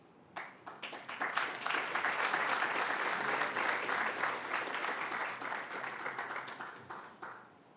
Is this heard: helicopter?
no